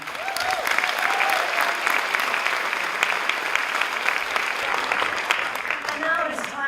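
A large audience at a women's film and television awards ceremony in New Zealand claps steadily and loudly, a dense, sustained burst of applause filling the room from start to finish.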